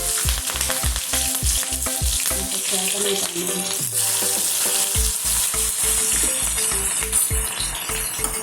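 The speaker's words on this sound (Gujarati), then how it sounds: "આ બધું થોડી વાર સાંતળવા દઈશું." Green chillies sauté in a hot pan for a Gujarati ridge gourd curry, giving off a steady, loud sizzle with stirring. A rhythmic thumping music beat plays underneath throughout.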